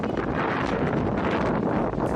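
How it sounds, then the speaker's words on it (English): Strong wind in Cebu buffets the microphone in a loud, continuous roar that barely lets up, with rumbling low gusts throughout. "Wow, it's getting windier. Hopefully you guys can hear it."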